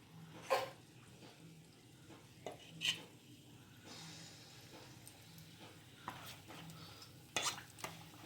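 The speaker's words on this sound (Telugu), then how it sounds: "ఇప్పుడు మనం పొంగడాలు వేసేసుకుందాం." Wheat flour pongadalu frying in hot oil in a home kitchen, a faint steady sizzle broken by occasional clinks and stirring knocks of a utensil against the pan, quiet and close with no talking.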